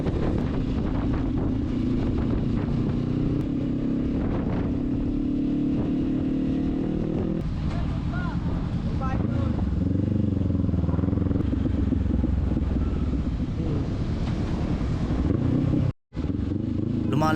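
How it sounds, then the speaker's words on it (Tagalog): Steady, heavy wind roar buffets the microphone while riding a motorcycle on the road toward the Sanchez Mira checkpoint, a continuous close rumble with engine drone beneath, briefly cutting out near the end. "Lumalakas na ang hangin. Ramdam ko na yung lakas at hatak nito sa manibela eh."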